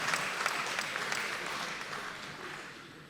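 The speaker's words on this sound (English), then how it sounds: "Please, can you put your hands together for yourself?" Audience applause at a live stand-up comedy special, a steady wash of many hands clapping from a sizable crowd, moderately loud and slowly tapering off over a few seconds with no talk over it.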